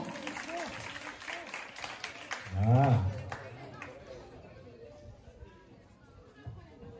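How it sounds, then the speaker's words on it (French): Applause from the audience at a school excellence-day diploma ceremony, a crowd clapping under an announcer's voice with a brief louder swell, while murmur and chatter continue around it. "Madame Sidibé, c'est vos applaudissements."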